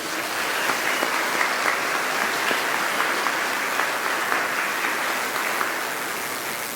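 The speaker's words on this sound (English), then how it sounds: "A round of applause." Audience applause fills a graduation commencement ceremony hall, a steady wash of many hands clapping at moderate volume that holds evenly throughout without voices.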